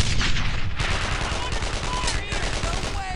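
Rapid gunfire in the World War II shooter Brothers in Arms: Earned in Blood, with loud bursts of automatic weapons and rifle shots crackling close by and a voice shouting briefly over it.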